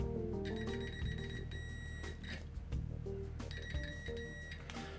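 An Aneng AN819A budget digital multimeter gives quick, bright electronic continuity beeps as the probes touch, sounding as repeated short tones over faint handling noise, close and clear.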